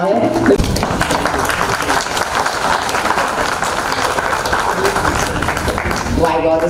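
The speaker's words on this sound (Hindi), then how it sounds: "उनके लिए जोरदार तालियां हो जाए" An audience at a poster launch event for a Swami Vivekanand serial gives loud applause for the producer and director, dense continuous clapping filling the room, with a voice briefly over it near the end.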